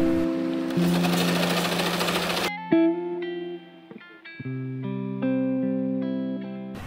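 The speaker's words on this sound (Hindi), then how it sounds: "कुशन कवर स्टिच कर रही हूँ सारे।" A sewing machine stitches cushion covers, giving off a steady mechanical whir, with strong synthetic musical tones running over it for most of the clip.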